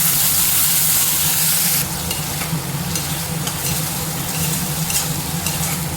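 Ground tomato paste hisses and sizzles hard as it hits a hot pan of ginger-garlic masala for a soya chunk curry, a loud steady frying burst that settles into a continuous crackle with stirring scrapes, no talking.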